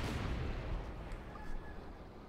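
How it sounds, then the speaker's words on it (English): Distant artillery barrage in Company of Heroes 2, a Wehrmacht versus US Forces match, rumbling as a dense continuous low roar of shell impacts, with a slightly stronger burst partway through. "we're gonna light artillery barrage off here from VonClausewitz against some of Dave's positions"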